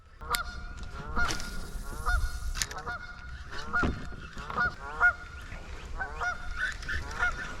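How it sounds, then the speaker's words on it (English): Canada geese honk repeatedly in loud, nasal bursts, several calls overlapping in an irregular rhythm, fairly close by. "we got the Canadian geese coming in hard"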